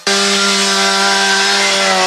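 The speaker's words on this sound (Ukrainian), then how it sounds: "Аби потрапити всередину, заводять бензопилу." A petrol chainsaw roars to life and runs at a steady, loud, constant pitch, close by, as it is started to cut a way into a flood-damaged shop with a jammed door.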